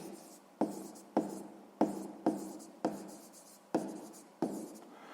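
Pen strokes scratch across a notebook page during a sixth-grade maths exercise, eight or so brisk, evenly spaced writing bursts, each starting sharply and trailing off, close and alone.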